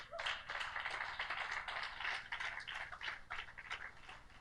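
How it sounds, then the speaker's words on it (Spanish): Church congregation applauding together, a steady dense wash of many hands clapping at moderate distance, continuous for several seconds with no talk over it. "Si te animas, dale un aplauso al Señor"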